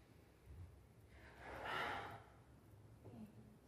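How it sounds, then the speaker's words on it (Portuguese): During a yoga session, a person breathes out through the mouth in a soft, drawn-out exhale, heard close and quiet against faint room noise. "Solta o ar pela boca e solta os ombros."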